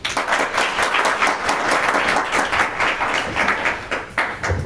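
An audience at a Korean academic conference on progressive politics gives loud, sustained applause, dense overlapping claps with sharp individual hits standing out, close and steady until it tapers slightly at the end.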